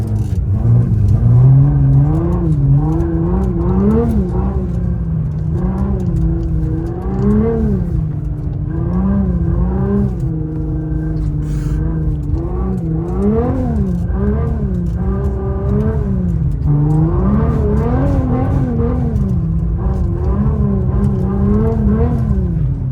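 A Nissan R35 GT-R engine drones loudly and continuously, its exhaust pitch rising and falling in repeated revs as it drives on slippery snow, heard from inside the cabin.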